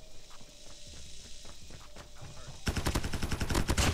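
Rapid automatic PP19 submachine-gun hip-fire in the mobile shooter Call of Duty Mobile erupts loud and dense near the end, following a stretch of quieter in-game footsteps and scattered ambient effects.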